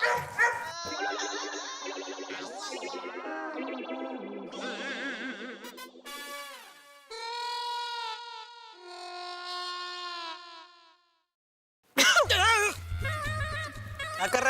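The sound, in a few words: dog barking and whimpering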